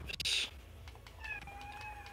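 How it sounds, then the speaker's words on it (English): Pet cats whining indoors, a short high meow near the start followed by faint, thin drawn-out tonal cries, quiet and close. "Oh, my cats are whining."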